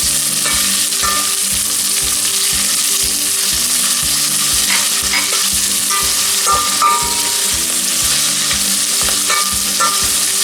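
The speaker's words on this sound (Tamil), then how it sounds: "இஞ்சி எல்லாத்தையும் போட்டு வதக்குவோம். பச்சை மிளகாய் வந்து" Ginger and green chili sautéing in a hot oiled pan, with a steady loud sizzle and regular stirring scrapes throughout, no voices.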